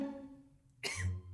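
A single dry cough bursts out abruptly near the end of a quiet moment, a sharp close burst with a brief low tail after it.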